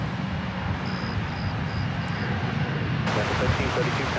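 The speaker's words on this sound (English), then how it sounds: "Dreamliner on the move." Boeing Dreamliner airliner moving at DFW Airport, a steady distant jet engine rumble and whine, moderately loud and continuous, with voices talking over it.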